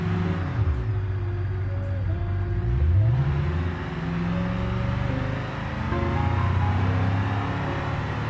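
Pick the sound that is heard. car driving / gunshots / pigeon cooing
car driving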